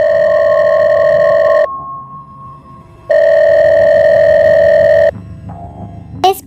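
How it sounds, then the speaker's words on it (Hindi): A mobile phone rings from a pocket: a loud, steady electronic tone sounding in two long bursts separated by a pause, followed by a brief quieter tail. "पॉकेट में रखा उसका फ़ोन दोबारा बजा"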